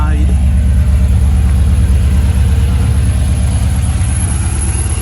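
A 1969 Chevrolet Camaro Pro Touring idles loudly and steadily close by, its deep, even rumble running through the whole clip, with a voice speaking over the engine.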